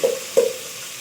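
Onions and tomatoes frying for a chicken curry get stirred in a pan, giving two short scraping stirs over a steady sizzle, close and fairly loud.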